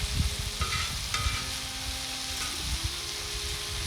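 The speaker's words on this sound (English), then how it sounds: "You can still hear that sizzle." Green chile, zucchini, yellow squash and onions sizzle in a hot pan for calabacitas, New Mexico style, giving a loud, close, continuous crackle with light stirring clatter and no talking.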